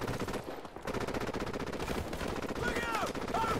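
Rapid automatic gunfire rattles steadily in Call of Duty 4: Modern Warfare, dense overlapping bursts and shots filling the whole stretch at close range and high volume.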